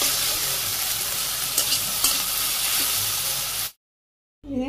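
Okra frying with green chillies, dried chillies, turmeric and salt, a loud continuous sizzle with a few stirring scrapes, cutting to silence near the end.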